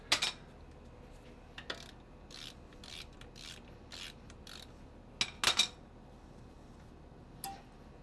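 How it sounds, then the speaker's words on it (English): A wrench works loose a bolt on a car's brake caliper during a pad and rotor change, with quiet, close clicking ratchet strokes coming in short irregular bursts and a few sharper metallic clinks. "So we're going to need to get a wrench and throw a wrench on that."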